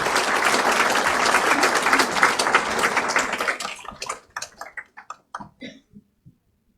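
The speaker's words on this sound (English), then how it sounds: "So a big round of applause for our" Dense applause from a large audience at a foundation day event fills the room, then thins out into scattered individual claps that fade to silence.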